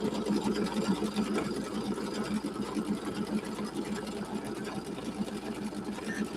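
An embroidery machine stitching pink thread runs with a steady, fast mechanical chatter and a low motor hum, continuous and close for several seconds without pause.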